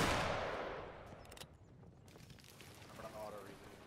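A musket volley fired on command in a Waterloo battle game, one broad booming blast that rolls and fades over a few seconds, followed by scattered distant shots and faint voices.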